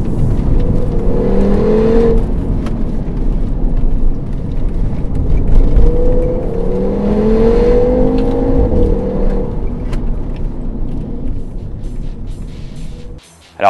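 Audi RS3 driven hard on small winding roads, its engine droning and revving up and down through several gear shifts, heard from inside the car with steady road rumble and no talk.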